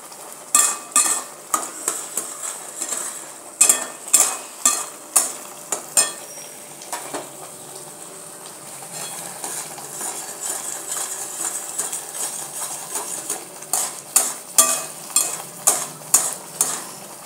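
Tomato puree gravy sizzles in a pan as oil starts to separate, with a spoon scraping and clinking against the pan in quick rhythmic bursts over a steady soft fry, close and clear.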